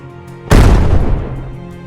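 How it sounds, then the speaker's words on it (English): A single loud, sudden blast booms out after a brief quiet, then its rumbling roar slowly decays. "A loud explosion shook the structure, followed by thick black smoke"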